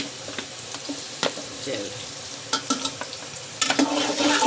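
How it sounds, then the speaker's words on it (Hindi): Onions frying in hot oil for biryani, a soft steady sizzle with scattered crackles and stirring clatters that grow denser and louder near the end, under a brief spoken word. "ऑयल थोड़ा गर्म होता है तो इसमें डालेंगे हम प्याज"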